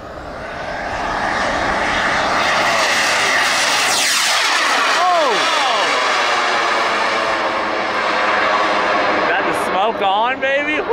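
A giant radio-controlled jet aircraft takes off, its turbine roaring loud and steady, then sweeping in pitch as it passes close and pulls away, with voices talking over it.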